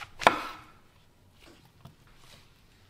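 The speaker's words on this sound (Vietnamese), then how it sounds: "200g thì mình cắt lát, còn 200g mình sẽ cắt cái nấm mình chẻ làm 4 hoặc là làm 3" Knife cutting fresh mushrooms on a board, one sharp close chop followed by a couple of softer, fainter cuts in a quiet kitchen.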